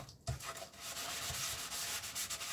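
A wooden hexagon shelf being sanded by hand, giving a steady close-up rasping rub in quick repeated strokes after a short knock at the start.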